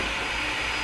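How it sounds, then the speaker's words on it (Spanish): A lint vacuum cleaner runs with a steady, loud whirring drone, continuous and close. "la aspiradora de pelusa"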